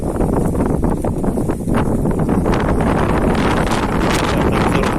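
Strong outdoor wind gusts roar steadily and loudly across the microphone, a constant buffeting rush with brief lulls.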